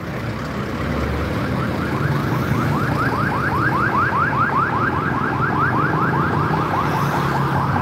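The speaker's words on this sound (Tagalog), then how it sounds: "Ingay naman itong wangwang na to." A loud siren wails on a city street in Manila near the Metropolitan Theater, a rapid repeating warble that sets in after a second and continues steadily over street noise.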